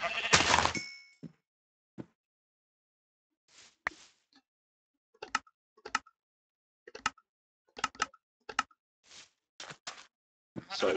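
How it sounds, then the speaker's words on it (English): Sheep bleating in the Minecraft mod Divine RPG, heard as brief game bleats amid sparse rapid clicks and taps of play, fairly faint, no talking. "Oh, kill these sheep with their wool."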